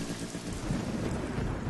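Heavy rain pours down with thunder rumbling beneath it, a dense, continuous hiss of drops over a low, rolling boom, loud and close, with no talking.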